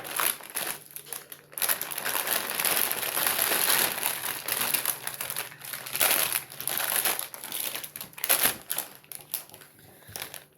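Continuous crinkling and crumpling of paper with scissor-like snips as scissors cut through taped paper, fairly close, steady for several seconds with a few louder crackles near the end.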